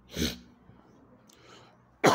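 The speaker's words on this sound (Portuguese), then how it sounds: "Desculpa, pessoal, a tosse" A single harsh cough comes close by, followed by quiet, another short cough-like burst at the end.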